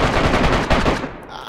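Dense, rapid gunfire in the video game DayZ rattles continuously for about a second, then cuts off, leaving a quieter rumbling tail.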